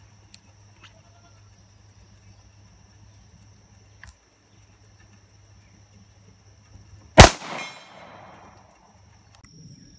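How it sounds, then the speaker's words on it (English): A single loud, sharp report from a Kimber Pro Raptor 2 pistol fired at 60 yards outdoors rings out partway through, followed by a brief echoing decay, with quiet background otherwise. "We shot from 60, ran out of ammo."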